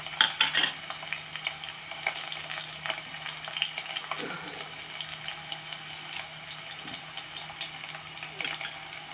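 Onions frying in a pan give a quiet, steady crackling sizzle for about nine seconds, with scattered scraping and clinks of stirring and a busier burst at the start.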